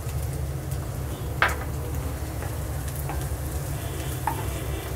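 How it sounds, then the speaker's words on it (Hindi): Onions frying in a pan over a medium flame for okra sabzi give a steady, close sizzle throughout, with a few soft stirring clinks of a utensil against the pan. "मीडियम फ्लेम पर हमें प्याज भूनते हैं"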